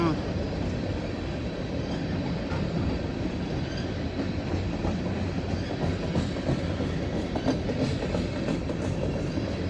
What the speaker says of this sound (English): Let's just see a car go by.